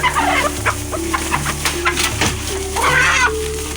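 Several chickens cluck close by in a noisy farmyard, with overlapping bursts of clucking and a low steady hum underneath.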